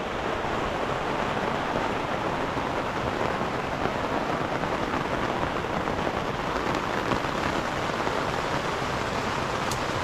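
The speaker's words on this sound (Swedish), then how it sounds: "Det regnar." Steady heavy rain pours down without pause in the wilderness, a dense, even hiss of drops hitting surfaces, with no voices.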